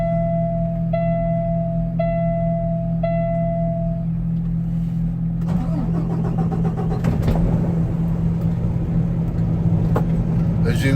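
A truck's engine is started: a run of evenly spaced electronic chime beeps is followed by cranking, and then the engine catches and settles into a steady, close running rumble.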